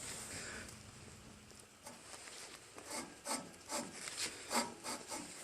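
A magneto ignition coil on a Murray Ultra garden tractor with an opposed-twin engine rubs as it turns, giving a series of faint, rhythmic scraping strokes that grow a little stronger toward the end, close and quiet.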